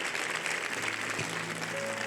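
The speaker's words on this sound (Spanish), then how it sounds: "¿Por qué no les damos un fuerte aplauso a estas mujeres?" Congregation at an evangelistic women's event clapping steadily for a group of women, a continuous wash of applause with faint tonal sounds underneath.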